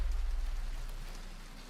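Rain falls in a video game trailer as a soft, steady hiss of dense drops with a low rumbling undertone and no voices.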